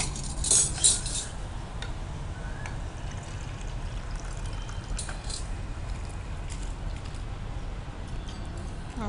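Soaked rice goes into a pot of boiling water for egg dum biryani, with a brief clatter of a metal utensil at the start followed by soft bubbling and stirring sounds.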